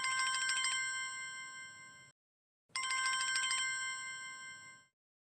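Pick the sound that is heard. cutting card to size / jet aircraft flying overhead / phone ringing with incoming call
phone ringing with incoming call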